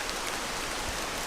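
Rain falls steadily through the Malaysian jungle near Lata Berembun, a dense, even hiss of drops on foliage heard close and alone, with no voices.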